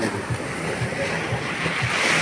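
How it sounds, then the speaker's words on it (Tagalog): Rough open sea seen from a fishing boat out after blue marlin, a continuous rushing wash of waves and wind noise buffeting the microphone, with low thumps of water against the hull. "Medyo gumalaw ang dagat ngayon"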